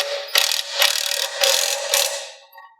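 A ratchet wrench tightens 9/16 bolts on a hydraulic open center valve kit for a Schulte high rise rock picker, giving four quick clicking bursts in a steady rhythm, close and clear, with no talk.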